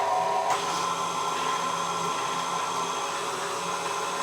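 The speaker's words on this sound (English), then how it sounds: "I love having this KitchenAid because it's so easy to bake with the kids." A KitchenAid stand mixer churns eggless sugar cookie dough with a steady, close whirring motor hum that holds evenly throughout.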